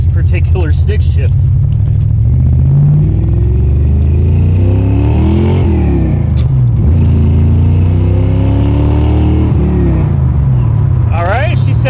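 A 1989 Ford Mustang GT Foxbody V8 revs loudly and steadily up close, its engine note rising and falling through several throttle blips, with a voice briefly heard near the start and end.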